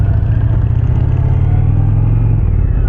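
Indian Challenger motorcycle fitted with a Rinehart Aro exhaust, a loud, steady deep rumble close by, engine idling or lightly revving with a constant low throb throughout.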